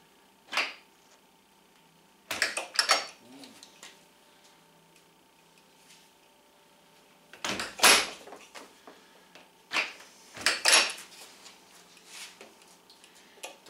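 Newly installed side door on a homemade teardrop trailer is repeatedly opened and shut, giving clustered clicks, latch snaps and solid thumps separated by quiet pauses.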